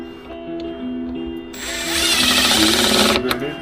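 A handheld power drill drives screws while a shelf goes up in a garage, a close buzzing whir that swells partway through, runs a second or so and stops abruptly.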